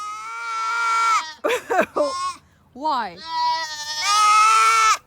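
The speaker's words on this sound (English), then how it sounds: "Each goat has its own tone, its own personality in sound." Dwarf goats bleat loudly up close in long wavering cries, one after another with short pauses, and a person speaks briefly between calls.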